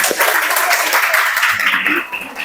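Classmates clap for a student group in a school classroom, brief scattered applause with chatter and a voice over it, fading toward the end.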